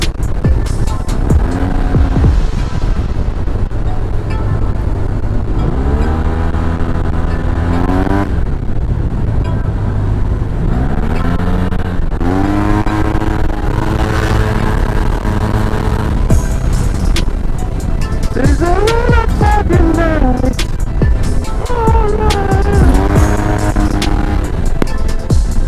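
Yamaha T-Max maxi-scooter ridden fast on a road, its engine note climbing and falling steadily through repeated acceleration runs, loud and close throughout with continuous wind and road noise.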